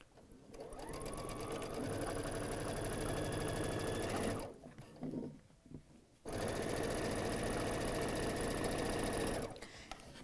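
A sewing machine stitching a quarter inch seam through quilt fabric, a loud steady rapid hum that stops briefly in the middle with small handling noises, then runs again at full speed.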